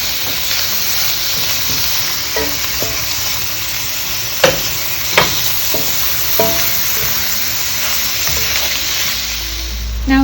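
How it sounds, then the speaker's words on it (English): Beef shoulder and onions sautéing in a pan for a Persian celery stew, loud crackling sizzle with a few sharp pops and spatters standing out, steady and close with no talking. "we're just going to saute and let it cook through and get brown on all sides"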